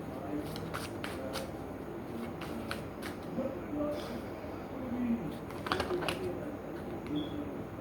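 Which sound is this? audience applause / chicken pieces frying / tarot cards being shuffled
tarot cards being shuffled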